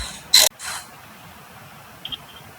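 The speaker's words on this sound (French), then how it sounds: "Et on dévisse." A ratchet wrench loosens a front brake bolt with a short, loud burst of rapid clicking, then a softer rattle and a couple of faint ticks a moment later.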